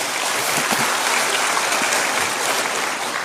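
Loud, dense applause from a large church congregation, a steady wash of clapping that holds evenly throughout without pause.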